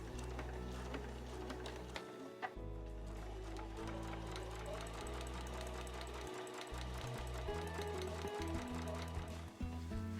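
A sewing machine stitches a fabric drawstring pouch, running in a steady mechanical whir with brief stops and restarts that fit forward and reverse stitching, fairly faint and up close.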